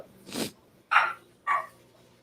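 A pointer puppy makes three short, sharp yips or barks, evenly spaced and close by, with quiet gaps between them and no talking.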